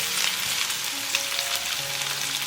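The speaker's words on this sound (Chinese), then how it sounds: "接着把排骨倒进来，然后撒一点椒盐粉，翻炒均匀" Pork ribs stir-fried with salt and pepper powder give a dense, close sizzling hiss, steady throughout with faint scraping of the wok.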